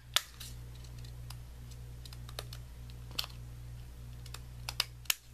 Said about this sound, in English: these scissors sometimes don't work as as well as I would like them to work